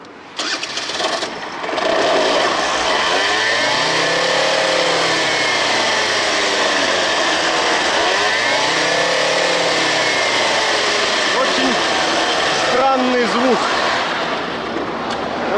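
A scooter engine on a roadside is cranked, catches, and is revved through several rising and falling swells, loud and close, with voices talking over it at times.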